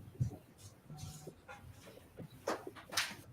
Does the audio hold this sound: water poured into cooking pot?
no